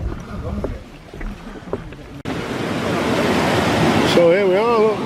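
The River Ribble in the Yorkshire Dales spills over a small weir, a continuous close rush of flowing water that grows louder midway, with wind buffeting the microphone and a voice briefly talking over it.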